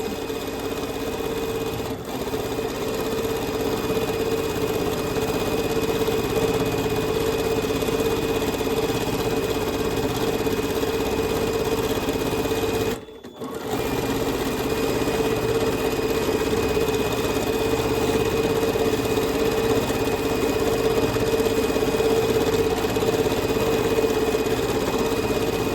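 A Bernina sewing machine with a stitch regulator stitches continuously at a steady speed, a close, even mechanical whir with one brief pause partway through.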